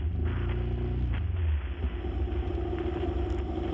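Road traffic beside an airport, with vehicles and motorcycles passing in a steady low rumble and a droning engine that fades after a second or so.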